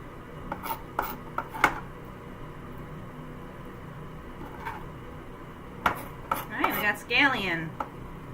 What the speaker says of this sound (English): So I just deal with it and just wipe off my knife after every few cuts.